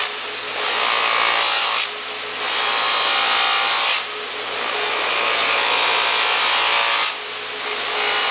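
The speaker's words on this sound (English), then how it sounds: "So I'm doing a cut movement, only polishing this direction." Stainless steel car trim being buffed with rouge on a powered wheel, a loud hissing whir in long passes that stop and restart in sharp cuts, alone with no talk.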